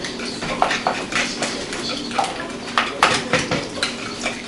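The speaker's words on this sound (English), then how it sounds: "Now we'll beat the eggs." Eggs are beaten in a bowl for Greek sweetbread, giving quick, irregular clinks and taps of a utensil against the bowl, close and fairly loud, with no talking.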